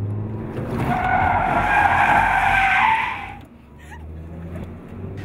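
A car's tires skid and squeal loudly during stunt driving, a sustained screech over engine noise for about three seconds, then a lower rumble as the skid ends.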